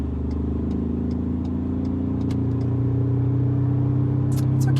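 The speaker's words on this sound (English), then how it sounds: "I'm gonna use this opportunity to play with sports mode, downshift, gear 4." A Ford Ranger Raptor's engine revs in sports mode as it downshifts into fourth gear, a steady, loud, rumbling drone that swells slightly toward the end, with no voices.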